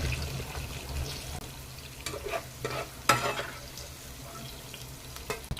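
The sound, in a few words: sautéing onion and garlic in a pan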